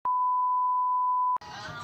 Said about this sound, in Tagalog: Cellphone mo pala.